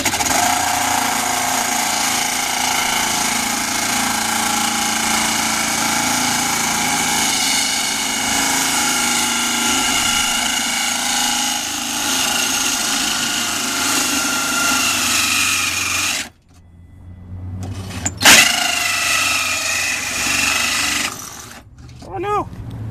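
A drill fitted with a cheap carbon steel hole saw cuts into thin Japanese car fender sheet metal on a 2001 Subaru Outback, giving a loud, steady whining grind that suddenly cuts out, then sputters briefly, with some voice nearby.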